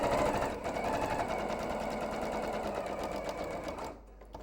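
A sewing machine runs at a steady fast whir with a rapid needle chatter as it stitches over ribbon, close and continuous before slowing and stopping near the end.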